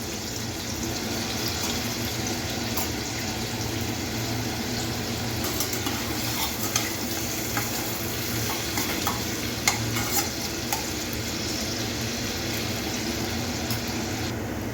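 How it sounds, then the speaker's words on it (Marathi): Finely chopped onion fries in a pan for prawn masala, making a continuous, close sizzle with frequent soft stirring scrapes over a steady hiss, and no one speaks. "आपल्याला गुलाबी होईपर्यंत चांगला तळायचा आहे"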